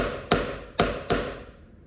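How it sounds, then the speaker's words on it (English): A hammer taps a fitting tool over the rotor axle of a Rolex watch, giving three sharp, close metallic strikes in quick succession with no talking. "Now I gotta give it a couple good whacks."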